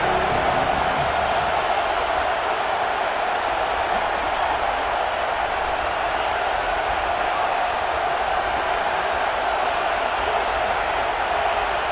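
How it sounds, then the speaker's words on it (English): A stadium crowd in the video game EA Sports College Football 26 keeps up a steady, dense roar throughout, loud and unbroken with no clear individual voices. "This crowd ready to make its presence known."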